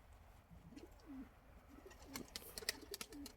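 A racing pigeon coos several times as it comes back to the loft, soft repeated low calls at mid distance, with a few sharper clicks and flutters toward the end and no talk.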